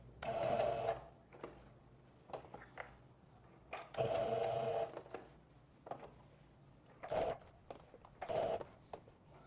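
A domestic sewing machine stitches the back seam of a blouse in several short, quiet bursts separated by pauses as the fabric is stopped and turned.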